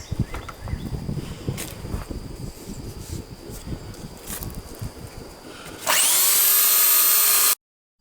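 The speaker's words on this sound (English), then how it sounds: "I'm going to use my belt sander just to round those off and get as close to that line as possible." A belt sander rounds off pieces of wood for an aquarium enclosure stand, a steady buzzing grind with rough scraping texture, followed by a louder, even whine as the motor runs freely before it stops abruptly.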